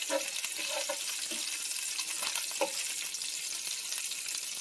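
Red onions sizzle and crackle in a hot pan with balsamic vinegar, a dense steady frying hiss with occasional soft pops and stirring, close and continuous.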